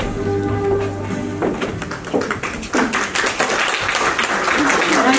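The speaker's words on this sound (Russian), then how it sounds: "Ваши аплодисменты." Audience at the final of a festival-competition on Orthodox shrines of Volgograd breaks into applause, scattered claps building into steady, close clapping after a short stretch of background sound.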